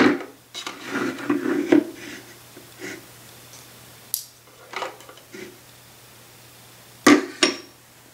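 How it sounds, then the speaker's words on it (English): A white Glade wax warmer gets set in place and switched on, giving a scattered series of light plastic knocks and clicks. A brief sharp click comes near the end, over a faint steady hum. "I'm about to put this white Glade warmer on there"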